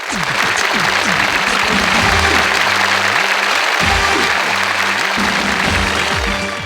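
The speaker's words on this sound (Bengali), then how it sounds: "চলে আসুন আপনারা মঞ্চে চলে আসুন তাদের জন্য করতালি" Loud, dense audience applause for six selected audience members coming up onto an outdoor stage at Cox's Bazar beach, continuous clapping swelling and holding for several seconds as a tonal melody plays underneath.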